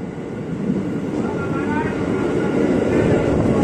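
A KRL commuter train pulls away from the Depok depot, a steady broad rumble of motors and wheels that builds gradually and stays close, with faint tonal whine above it.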